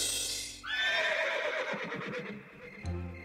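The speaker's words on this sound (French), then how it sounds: "c'était un hennissement qui devait venir de la prairie" A horse in a meadow gives one long, loud whinny that rises and then trembles down, with faint hoof sounds near the end.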